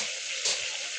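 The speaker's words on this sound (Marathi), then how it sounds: "हे अशी मस्त वांगी परतून घ्यायची आणि तेलातच शिजू द्यायची।" Eggplant frying in oil in a pan, a dense, bright, continuous sizzle with a brief louder crackle partway through, close by.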